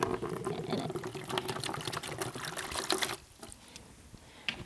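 Water is poured and splashes steadily during a pet grooming session, then stops abruptly, leaving a quieter trickle and faint drips.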